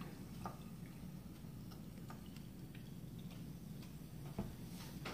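A quiet fizzing crackle of pineapple soda being poured, with scattered soft ticks and pops of bubbles over a faint low background hum.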